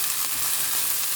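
Beans fry under a lid in a pan, giving a steady, dense sizzle that stays even throughout the short stretch with no voices.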